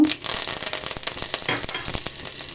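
Cumin, mustard seeds and curry leaves sizzle and crackle in hot oil, a steady close frying hiss with scattered pops and a light stir of the pan, no voices.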